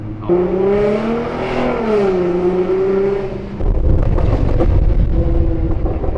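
A very loud Nissan GT-R R35 engine revs hard, its pitch rising and falling through a long held rev before dropping into a rough, rumbling idle-like roar, close and dominant.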